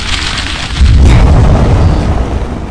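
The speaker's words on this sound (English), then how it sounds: "it shoots out a spray of fireballs, which do rapid damage" A video game weapon shoots a rapid spray of fireballs, making a loud, dense, roaring burst of booms and crackles that swells and holds steady throughout.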